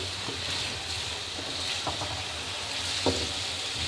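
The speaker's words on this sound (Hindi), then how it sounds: "इसमें कटे हुए आलू डाल देंगे और 3 मिनट के लिए हम आलू को इसमें फ्राई कर लेंगे ऑयल में" Chopped potatoes fry in oil in a pan on the stove for an Afghani egg and potato omelette, a steady close sizzle with a few soft stirring knocks and no talk.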